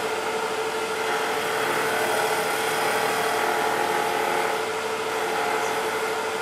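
A wood lathe spins as a skew chisel cuts the turning wood, a steady loud motor whine with a constant shaving hiss that holds even throughout.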